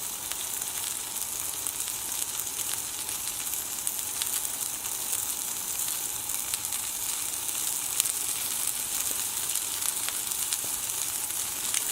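Shrimp sizzle and fry steadily in a medium frying pan, a close, constant crackling hiss that holds even throughout with no voices.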